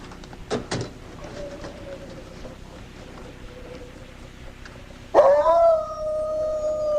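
A dog howls in a radio drama, a long wavering howl rising after a couple of short sharp knocks, then holding a steady tone near the close, with no one speaking.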